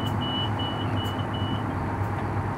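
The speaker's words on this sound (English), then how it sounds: "That's a radar alarm that tells the fishermen that there's a boat within a certain distance" Intermittent electronic beeping from a radar proximity alarm aboard a commercial salmon fishing boat, a thin repeating tone over a steady low engine drone that fills the whole stretch.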